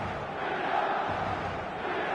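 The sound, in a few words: stadium crowd in eFootball video game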